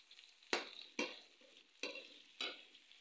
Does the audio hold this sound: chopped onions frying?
yes